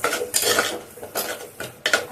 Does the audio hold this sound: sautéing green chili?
yes